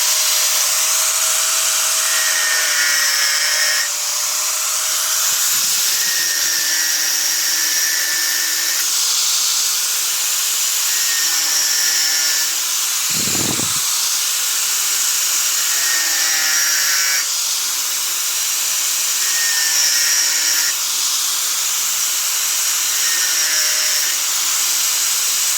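A power tool whines steadily and loudly while cutting material for a homemade electrical junction box, a constant high-pitched drone lasting throughout with one brief low thump partway in, and no voices.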